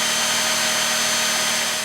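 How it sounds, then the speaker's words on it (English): Running in strong mode, an Oraimo UltraCleaner S vacuum cleaner makes a louder, fuller rushing whir with a steady motor hum, close and continuous with no speech. "you can activate the strong mode,"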